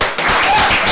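A crowd at an academic opening ceremony claps for new master's students, a short burst of dense, close applause that swells after a quiet start.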